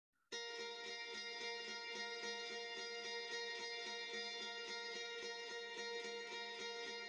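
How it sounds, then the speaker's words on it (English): A single acoustic guitar chord captured on a Neumann 87 microphone rings out with rich sustained harmonics after a sharp strum, held steady and close for several seconds with no voices. "guitar chord on this acoustic that we recorded back here on the Neumann 87 mic"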